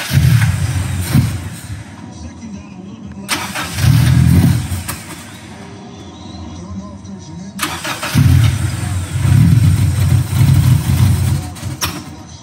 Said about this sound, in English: Pop through the intake.